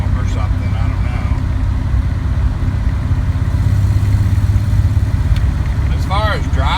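A Chevrolet S10 with an LS engine and 5-speed gearbox runs with a loud, steady low engine rumble throughout, with a brief higher whine near the end.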